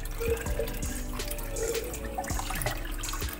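Water gushing and splashing steadily out of an undergravel filter chamber during backwash of a turtle pond, close and fairly quiet, with small drips and gurgles throughout.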